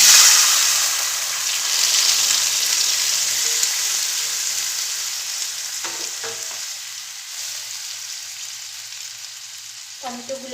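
Vegetables with a dried red chilli sizzle and fry steadily in a pan for a veg Manchurian, with a few stirring scrapes and clinks near the end.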